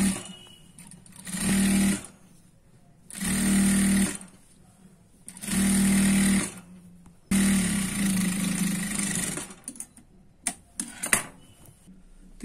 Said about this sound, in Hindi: यहाँ पे हम इसे सीधी सिलाई लगाएंगे